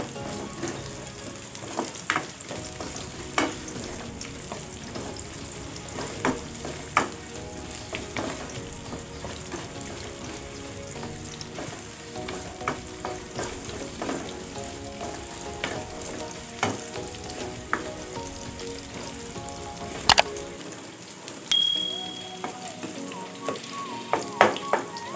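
Onion frying in a pan for Filipino-style chicken curry with coconut milk, giving a soft continuous sizzle with scattered crackles and occasional stirring clinks, close and fairly quiet, with no talking.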